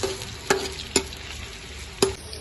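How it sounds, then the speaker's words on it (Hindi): Low, steady sizzle of onions sautéing in hot ghee in a pan, broken by a few sharp clinks of a utensil stirring, with no one speaking. "इसको हमने करना है सौते, 5 से 6 मिनट में सौते हो जाएंगे।"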